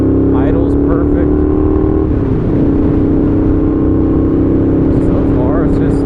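A Honda GL650 motorcycle engine drones steadily and loud on a shakedown ride, a continuous low hum with a slight rise and fall in pitch, while a voice talks over it throughout.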